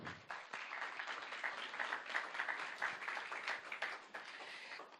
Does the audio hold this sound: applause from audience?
yes